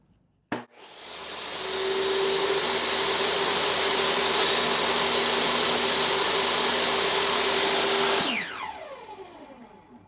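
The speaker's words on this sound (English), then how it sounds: "you're going to run the blade and the entrance reducer back and forth over the blade to smooth it all out" A power saw blade smooths a wooden beehive entrance reducer: a sharp click as the motor starts, then a steady high whining hum with tonal overtones for several seconds, ending in a descending spin-down, close and alone.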